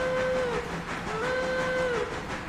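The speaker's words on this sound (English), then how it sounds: "This will be a pinky whistle." A pinky-style steam train whistle in the railroad game Railroader sounds twice, each a clear, sustained chime-like tone that bends slightly at the end, over steady background rumble.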